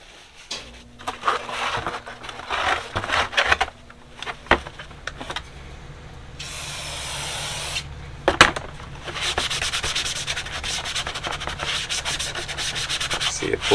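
Rag or pad scrubbing grease and dirt off the air box of a 1982 Honda CB650 motorcycle, steady close rubbing strokes in bursts with a brief hissing spray-like stretch midway, no talking.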